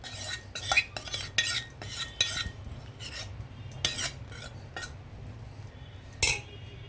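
A spoon scrapes and clinks against a pot while layering prawn curry over biryani rice, a series of close metallic scrapes and taps in uneven strokes over a low background hum.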